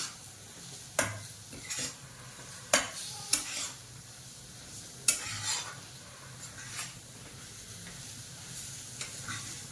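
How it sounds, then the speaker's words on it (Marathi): Semolina roasting in ghee in a pan sizzles softly and steadily while a spoon stirs it, giving occasional sharp scrapes and clinks against the metal, fairly quiet and close. "रवा तुपामध्ये चांगला परतून घ्यायचा तूप सुटेपर्यंत चांगलं भाजायचं"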